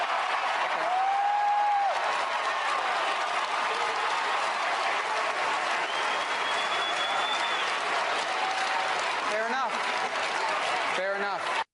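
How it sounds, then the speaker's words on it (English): A crowd at a CNN gun debate applauds loudly and steadily for several seconds, dense clapping filling the room, with scattered cheers and voices mixed in. "And listen to the crowd."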